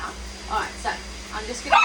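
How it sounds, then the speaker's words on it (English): A small dog, likely the poodle being groomed, gives several quick yips and barks at an irregular pace in the background while a person talks over them. "So if you hear a doggy barking in the background"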